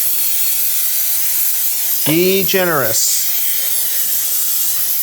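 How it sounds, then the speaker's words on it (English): Cooking spray containing flour hisses steadily into a bundt pan, a close, continuous spray that runs through the whole stretch while a voice briefly speaks over it. "I'm going to spray it with cooking spray that has flour in it."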